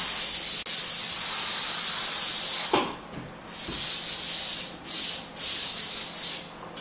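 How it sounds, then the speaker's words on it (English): 3M Super 77 spray adhesive hisses from the can onto drywall corner bead in several close bursts, a long steady spray followed by shorter spurts of varying length. "Spray the inside lip of the corner bead, both edges."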